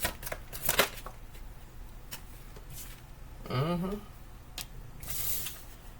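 A deck of tarot cards is shuffled close by in several quick riffling bursts, with soft card slaps and handling sounds between them, while a person talks quietly.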